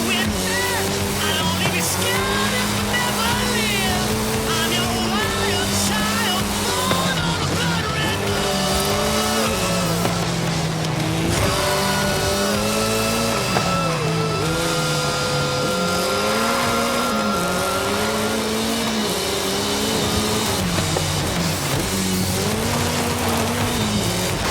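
Giant monster truck wheels roll and an engine drones in the racing video game Forza Horizon 5, the pitch rising and falling steadily with occasional tire squeal, loud and continuous with a voice talking over it.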